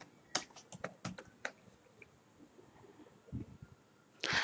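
Typing on a computer keyboard while renaming a file: a quiet burst of sharp, irregular key clicks up close, followed by a few softer taps and a louder clatter at the end.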